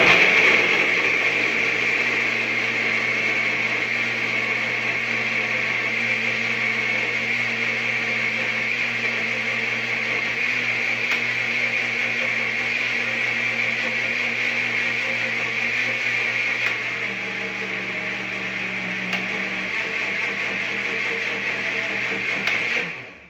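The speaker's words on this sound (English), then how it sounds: "We are going to press the blend button until it has a creamy texture." An electric blender runs continuously at steady speed, blending a smoothie to a creamy texture, with a loud, even whirring drone that holds throughout and only shifts slightly in pitch near the end before cutting off.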